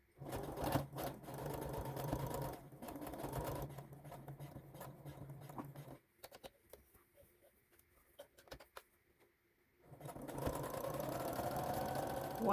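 A sewing machine stitches a fabric face mask in quick whirring runs, pausing for a few seconds of near quiet midway before stitching resumes, close and moderately loud.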